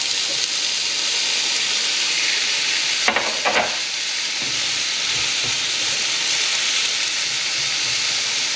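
Onion sizzles on a hot griddle for a Philly cheesesteak, a steady loud frying hiss throughout, with a brief scraping clatter of a utensil near the middle.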